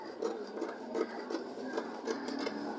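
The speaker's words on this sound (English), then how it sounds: "I'm cutting the flap area." Scissors cutting children's trouser fabric along chalk lines, repeated soft crunching snips at an even rhythm, close and moderately loud.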